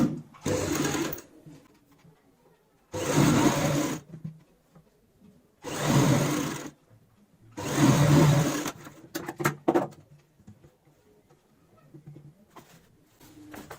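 A household sewing machine stitches a fabric cushion cover in four separate, evenly spaced bursts of close, rapid whirring, with quiet pauses between them and a few small clicks and handling sounds near the end.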